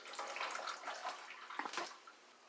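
Water running into a small aquarium over substrate is turned off: a steady splashing, bubbling fill at moderate level, with a couple of gurgles near the end before it tapers down.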